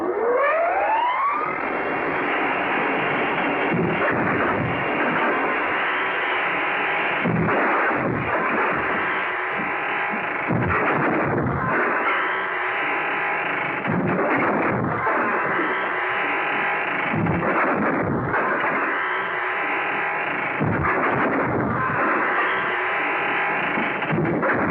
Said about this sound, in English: Firing at him from the window.